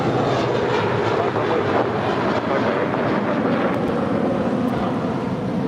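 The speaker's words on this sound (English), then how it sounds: "this is Blue Carpet Treatment departing to JFK, Flight 324 with JetBlue Airways. It's an A321." JetBlue Airbus A321 taking off from runway 25 right at LAX, a loud, continuous jet engine roar mixed with wind buffeting, heard steadily without a break.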